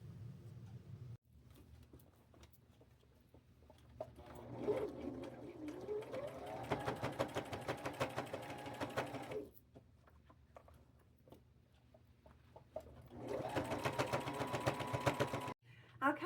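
A sewing machine stitches a shower curtain dress in rapid mechanical bursts, running for several seconds, pausing, then running again, close and clear with faint room noise between runs.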